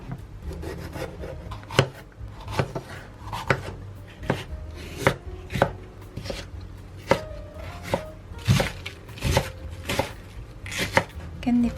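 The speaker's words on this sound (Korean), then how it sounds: "표고버섯을 얇게 썰어줍니다." A knife thinly slices shiitake mushrooms on a cutting board in a home kitchen, giving a steady series of sharp, close chopping taps with soft rubbing between strokes.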